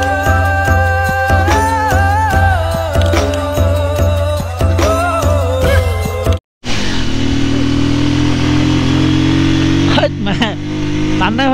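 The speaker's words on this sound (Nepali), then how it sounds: "तान्नै खोज्दैन र बाइकले त" Motorcycle engine labouring while riding on a mountain road in Mustang, Nepal, a loud steady drone with rising and falling pitch, briefly cut off, then continuing lower under wind, with people talking over it.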